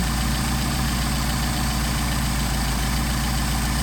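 Mercedes 190SL engine idling steadily with Solex carburetors during adjustment, a continuous close-up rumble with an even low throb that holds throughout.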